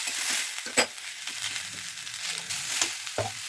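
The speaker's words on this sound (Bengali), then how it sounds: "পেঁয়াজ কলি, মটরশুঁটি এবং ক্যাপসিকাম দিয়ে কিছু সময় নাড়াচাড়া করে নিতে হবে" Spring onions, peas and capsicum sizzle in a pan while being stir-fried, with a steady frying hiss broken by several sharp spatula scrapes and clacks against the pan.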